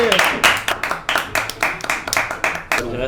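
A stage audience claps for a French game-show segment, with sharp, close, irregular claps coming in quick bursts for about three seconds, while voices are faintly present.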